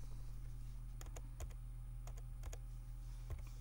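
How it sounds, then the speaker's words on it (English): Computer keyboard keys are tapped in short clusters of clicks, close and clear over a steady low hum, with no talk. "so let's type it in"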